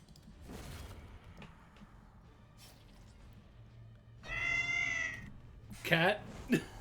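A cat meows twice, a drawn-out cry followed by a shorter, sharper meow, heard over quiet background noise with some knocks and thumps.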